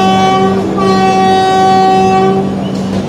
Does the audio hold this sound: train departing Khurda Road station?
yes